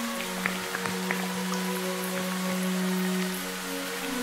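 Torrential rain in a forest, a steady hiss of falling water with scattered drops pattering nearby on leaves and surfaces, heard alone without talk.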